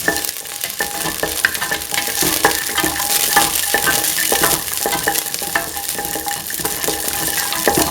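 Shallots and garlic fry in a pan with a steady, close sizzle. A utensil stirs and scrapes against the metal in repeated strokes throughout.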